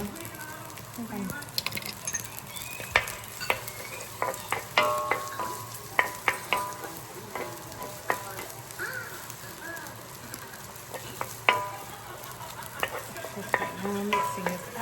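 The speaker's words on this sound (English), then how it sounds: "Mixing this up, fried rice." Fried rice stirred and tossed in a hot pan during home-cooked Korean BBQ, with a steady sizzle and repeated sharp scraping clicks of the utensil; voices murmur faintly in the background.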